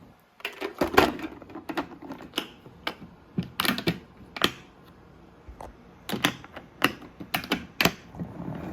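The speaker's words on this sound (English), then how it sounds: "I'm gonna chop them up." A knife chops salad greens on a board in a quick series of sharp, uneven knocks, close and clear with short pauses between bursts.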